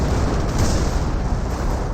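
Artillery fire striking a Firefly tank in a video game, a continuous heavy booming rumble of blasts that runs loud and unbroken throughout.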